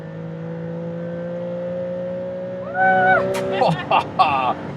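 A Maserati MCPura V6 supercar on the Autobahn, with a steady droning engine note that rises in pitch, then sharp gear-change blips and bursts as it accelerates, heard from inside the cabin.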